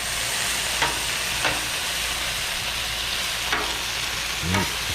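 Sausages cooking on a Blackstone griddle give a steady, close broadband sizzle that runs throughout, with a few brief scraping or tapping accents and a low clunk near the end.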